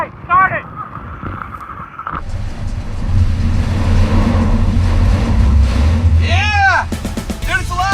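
A Chevrolet LUV pickup truck, repaired after starting-fluid troubles, cranks and then settles into a rough, steady idle, with people cheering and talking excitedly over the running engine.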